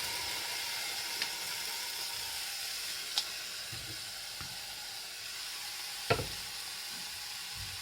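Fruit and sugar are stirred in a small, deep saucepan, giving a soft, continuous sizzle with occasional faint scrapes and light clicks of the utensil against the pan.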